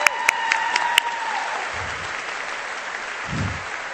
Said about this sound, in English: And then we will give them a round of applause.